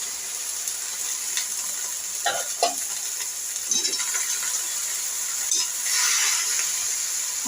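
Soaked moong dal being stir-fried in a pan, with a steady soft sizzle and a few scraping stirs from a spatula, moderately faint and with no talking.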